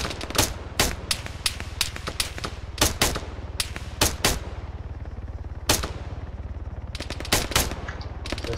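Machine gun fire in the military shooter Arma 3, sharp bursts and single cracks in uneven clusters over a steady low rumble, loud and close, with no voices.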